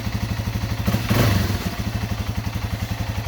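Yamaha TW200 motorcycle idling steadily after a carburetor clean, close up, with an even, rapid thumping putter and a brief swell in loudness around the middle.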